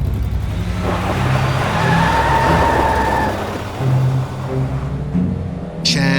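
A car speeds away on a dark night, its engine roaring loudly with a brief tire squeal as it pulls off and fades slightly.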